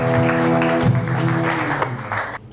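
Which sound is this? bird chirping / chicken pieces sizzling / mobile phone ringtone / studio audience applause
studio audience applause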